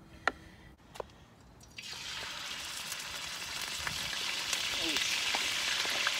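Cooking oil heating in a kitchen pan ahead of frying fish: after a couple of soft clicks, a steady bright sizzle sets in and grows gradually louder and denser, with occasional small pops, close and alone without talk.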